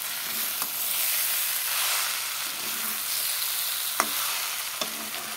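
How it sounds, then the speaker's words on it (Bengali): Taro stolons and potatoes frying in spices in a pan, a steady loud sizzle throughout with occasional sharp scrapes and clinks of a stirring spoon. "ভেজে রাখা লতি আলুগুলো দিয়ে এখন মশলার সাথে ভালো করে কষিয়ে নেব।"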